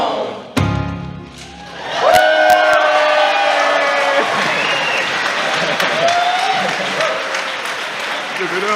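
A church congregation applauds and cheers for a youth choir, loud crowd clapping with whoops and shouts building after a brief opening; a voice calls out over the noise while music tones linger.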